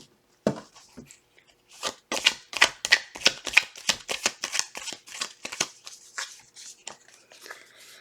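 A deck of tarot cards is shuffled in quick, rhythmic riffles, close and clear, tapering off into lighter handling near the end.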